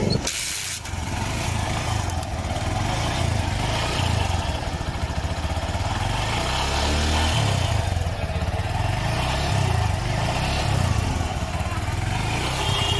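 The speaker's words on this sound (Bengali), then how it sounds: "এবার আমরা বাইকটিকে স্টার্ট দিয়ে দেখব সাউন্ডটা কেমন হয়।" A repaired TVS Phoenix motorcycle, fresh from work on its rings, piston, valves and timing chain, starts and settles into a loud, steady idle close by, running continuously with no talk over it.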